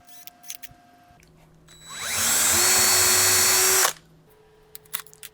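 After a few soft clicks, a drill with a twist bit winds up and grinds steadily through wood for about two seconds, loud and near, then stops with faint handling noises.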